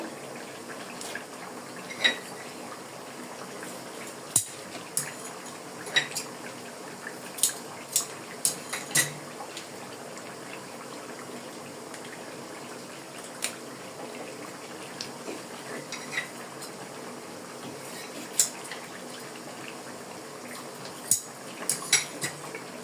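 Chicken pulao (morog polao) with tomato sauce is stirred in a pot, a steady background hiss broken by scattered sharp clinks and scrapes of a utensil against the pot.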